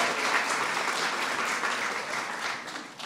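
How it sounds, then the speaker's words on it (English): An audience at a White House Eid reception gives a big round of applause, a full, continuous clapping wash from many people, steady and fairly loud, tapering slightly near the end. "So please give them a big round of applause."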